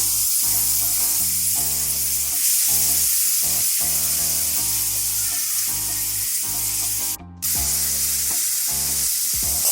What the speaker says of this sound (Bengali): রসুনটা দিয়ে আমি এটাকে একটু নেড়ে নিচ্ছি।